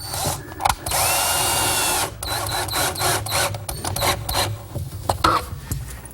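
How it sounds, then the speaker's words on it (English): A power drill bores a pilot hole in melamine for a kitchen island build. A close whirring drill burst lasts about a second, surrounded by scraping, clicking and handling noises, with no talking. "First, I drill a pilot hole, and I'm using these finish washers."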